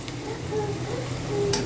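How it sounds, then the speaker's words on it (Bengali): Potato sticks for french fries frying in hot oil, a steady low bubbling sizzle that runs throughout with faint clinks near the end, no talk over it. "তেল গরম হয়ে গিয়েছে এবার আলুটা তেলের ভিতর দিয়ে"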